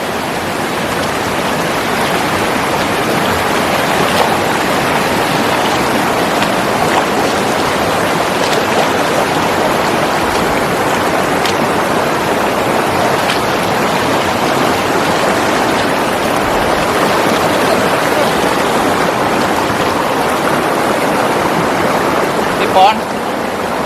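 A river flowing beside a large tree on the bank, a loud steady rushing wash that stays constant and close throughout.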